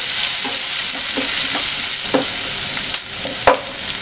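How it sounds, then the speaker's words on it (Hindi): Sliced onions for dal fry sizzle steadily in hot oil in a pan, with a continuous loud frying hiss and occasional soft scrapes and clinks as a spoon stirs them. "हम 1 से 2 मिनट प्याज को भूनेंगे।"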